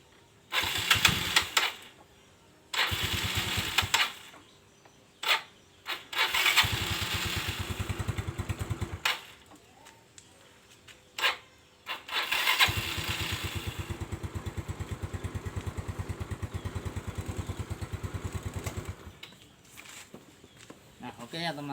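A Yamaha Mio Soul scooter with a newly fitted battery cranks in several short bursts before its small engine catches and runs with a steady, close putter, then cuts off; a voice talks in between.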